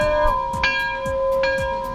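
Bell on a 2016 Ford Super Duty F-350 Lariat crew cab pickup rings in two bright strikes with a long sustained tone between them, close and clear over a low rumble.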